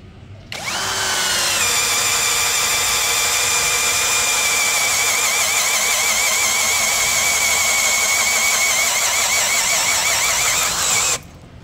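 A Doliz BD617 cordless brushless impact drill bores a 25 mm auger steadily into mahogany with a loud, continuous high-pitched whine, running for about ten seconds before stopping abruptly.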